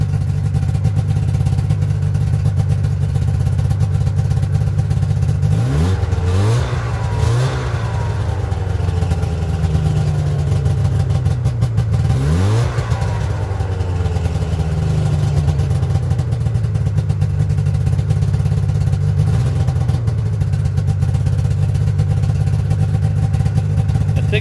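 A snowmobile engine runs steadily as its fuel tank is drained, a loud, constant low drone with two brief revving surges partway through and no talking.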